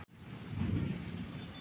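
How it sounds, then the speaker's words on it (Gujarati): Heavy rain pours down on a flooded residential street during a lightning storm, a dense continuous roar of falling water that swells slightly and stays steady throughout. "જો મિત્રો, કેટલો ફાસ્ટ વરસાદ આવે છે,"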